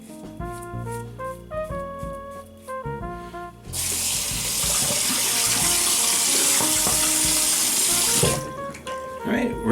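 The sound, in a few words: water running from tap, rinsing shaver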